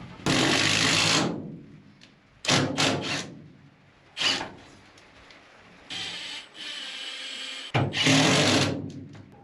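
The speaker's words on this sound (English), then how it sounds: "I'm going to take a piece of blocking screw it to the trailer wall, and then attach this board to the block with wood screws" A power drill drives wood screws through a board into blocking on a trailer wall. Several loud bursts of whirring and grinding come up close, with short pauses between them.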